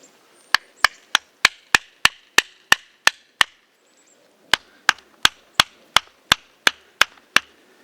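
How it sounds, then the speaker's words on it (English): A tarp stake hammered into the ground with a second stake, sharp loud wooden whacks in two evenly paced runs of about ten blows each, split by a short pause, close by with no talking. "take a second stake and put it in the ground and catch this notch on the top of that bevel"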